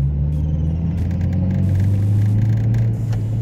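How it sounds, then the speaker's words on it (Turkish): A Seat Cordoba's engine rumbles steadily from inside the car, rising slightly in pitch as the throttle is pressed, loud and continuous with no talk. "Araba ısındığı zaman agresif modum açılıyor. Biraz gazlayalım, biraz hatta şöyle size."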